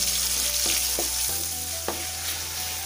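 Tomatoes sauté in a hot pan for a sardine masala curry, giving a steady close sizzle with a few soft stirring scrapes and no talking.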